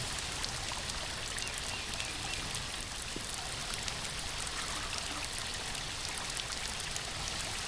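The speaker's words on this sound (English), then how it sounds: "I think this is the waterfall that Walter mentioned" Steady, dense rush of a waterfall, an even broadband roar with no breaks, moderately loud and without voices.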